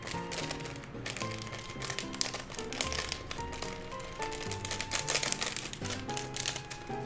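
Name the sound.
sliding Pokémon cards out of sealed packaging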